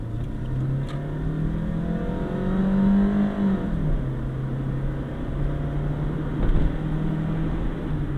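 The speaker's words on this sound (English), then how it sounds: "the kind of car I'm driving right now is a 1999 Mitsubishi Mirage" A 1999 Mitsubishi Mirage drives along a neighborhood street with a steady engine drone heard from inside, its pitch climbing under acceleration, then dropping at a shift before settling back to an even hum.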